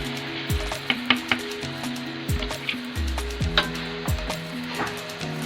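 Okra dropped into a hot pan for a homestyle bhindi with onion, giving a steady sizzle and frying crackle with a few soft clatters and stirring knocks, close up and with no voices.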